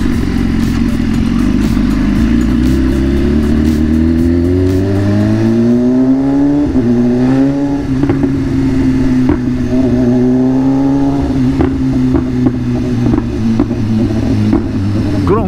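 A loud motorcycle with an aftermarket exhaust revs hard, its exhaust roaring and rising in pitch, then settling into a throaty, rumbling idle with clattery pops.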